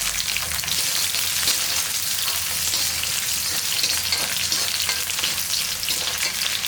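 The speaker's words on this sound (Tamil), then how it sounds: "கொஞ்சமாக சின்ன வெங்காயத்தை கட் பண்ணி போட்டுக்கலாம்" Chopped small onions (shallots) sizzle in hot oil with popped mustard seeds and curry leaves for a dry fish curry, a steady close crackling fry that runs evenly throughout with no talk.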